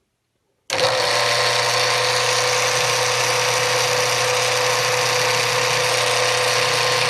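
A core drill machine bores into chrysocolla stone with water running, a loud steady high-pitched whine that starts abruptly after a brief silence and holds constant throughout.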